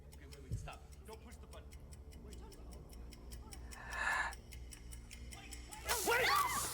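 A countdown clock ticks in an even, rapid rhythm throughout, fairly faint, while voices gasp and react over it and a louder burst comes at the end.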